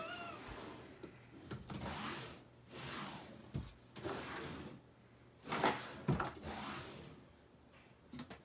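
Kitchen drawers and cupboards are pulled open and rummaged through while scrapbooking supplies are picked out, with repeated wooden slides, knocks and clattering contents at close range and no speech.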